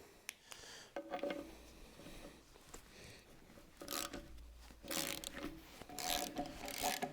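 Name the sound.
loosening bolts and nuts on a pedestal grinder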